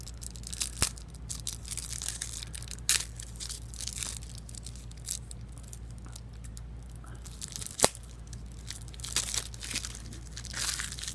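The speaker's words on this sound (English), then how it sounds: "They never have an easy tear tab on these" Crinkly plastic wrap is torn and crumpled off a Marvel Champions card game expansion pack, giving close, sharp bursts of crackling with a couple of louder snaps.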